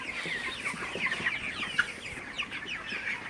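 Many 32-day-old broiler chickens on a farm cluck and chatter together at close range, a busy overlapping flock sound.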